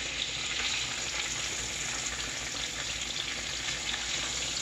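Thick sirloin chops sizzle steadily in a hot pan, a dense, even crackle of frying that holds at a constant moderate loudness throughout, with no voices.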